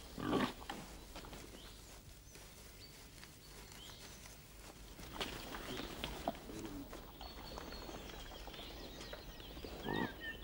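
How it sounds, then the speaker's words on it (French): Free-roaming pigs in a Corsican chestnut grove, with scattered grunts and snorts at moderate distance, some rustling and outdoor ambience over ten seconds, no speech. "les porcs-coureurs mangent les châtaignes"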